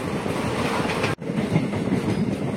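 A passenger train from Dibrugarh rolls into Sripani railway station, a steady loud rumble of wheels and carriages with rhythmic clatter and a brief sharp break midway.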